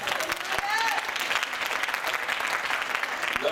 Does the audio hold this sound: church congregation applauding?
yes